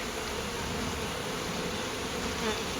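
Honeybees buzz steadily and close during a hive inspection among frames of brood, a dense continuous drone with no talking over it.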